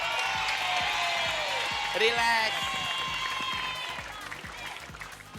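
A studio audience on an Indonesian TV variety show claps and cheers under a presenter's voice, with loud music playing throughout and a brief whoop midway.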